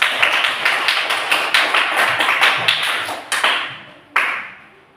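Children clap their hands together in a classroom, a quick run of sharp, evenly paced claps close by that thins out and ends with a few last louder claps.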